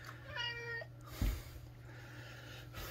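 Pet cats meow at evening feeding time, a short tonal call early on followed by a dull knock, all faint and close in a quiet room.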